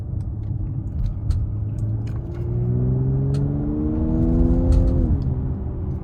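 A 2019 Mercedes-AMG GLC 43 engine accelerates hard in a straight line, its growl rising steadily in pitch and loudness over several seconds before easing off near the end, heard from inside the car with faint clicks and no talking.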